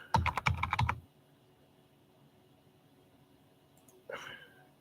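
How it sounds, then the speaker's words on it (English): A quick burst of rapid keystrokes on a computer keyboard, loud and close for about a second, followed by quiet room tone and a brief breathy sound. "So just for giggles, I'm going to type in"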